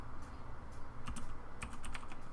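Computer keyboard typing during Unity 2019 game coding, a steady patter of close key clicks with small bursts of faster strokes over low room hum, no voices.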